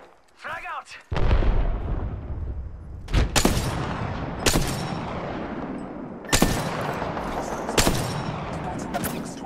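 In the Apex Legends video game a frag grenade explodes amid gunfire, several loud sharp blasts and shots spaced a second or two apart, close and punchy, with a voice heard at the start.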